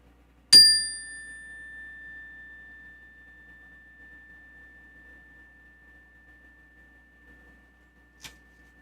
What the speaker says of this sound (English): let me give you a bell here